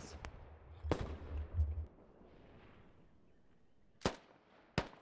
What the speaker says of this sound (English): don't think that explosion got uh, anyone.